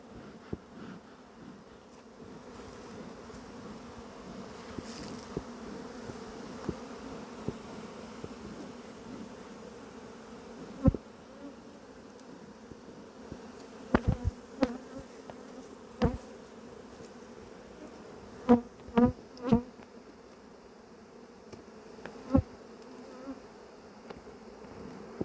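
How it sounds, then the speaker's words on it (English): Honeybees buzz steadily around an opened, packed beehive during beekeeping, a dense drone running throughout with sharp clicks and knocks from handling the hive frames. "Wow, look at all those bees you got."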